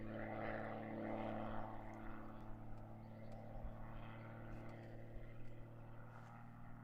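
Aerobatic propeller plane flying practice figures at an aerobatics championship, a distant droning engine that swells and fades, with no talking.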